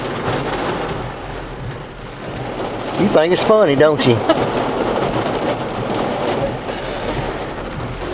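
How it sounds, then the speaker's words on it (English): Heavy rain pours steadily onto a brand-new truck in the Alabama woods, a dense continuous hiss throughout, with a voice speaking briefly over it midway. "It's pouring down."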